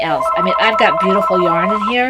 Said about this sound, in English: Excuse the phone.